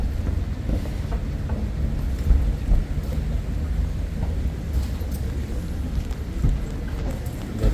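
Steady rain falls outdoors near an escalator and a row of horse-drawn calesas, with a continuous low rumble and wash of water throughout, and a few faint thumps of hooves or thunder mixed in.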